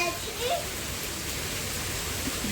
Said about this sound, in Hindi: अब थोड़ा बारिश होने लगा।